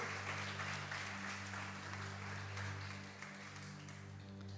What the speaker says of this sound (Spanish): Fortísimo aplauso